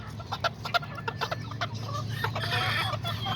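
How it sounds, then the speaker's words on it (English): Small Serama and Azteca chickens and a rooster cluck nearby, a string of short, sharp clucks and squawks in an irregular rhythm, followed by a busier, continuous patch of overlapping bird noise, with no one talking. "and then there's those little chickens right there."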